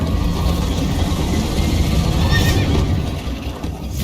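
A horse in Minecraft: Story Mode whinnies briefly over a constant, dense rumble of galloping and rushing noise that fades slightly at the end.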